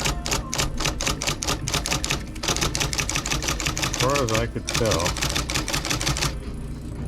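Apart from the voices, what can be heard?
typewriter keys being pressed to test them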